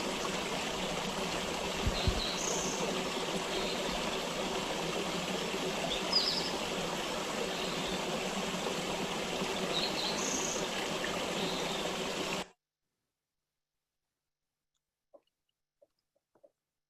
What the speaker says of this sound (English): the beautiful and rather rare sound of running water in southeast Arizona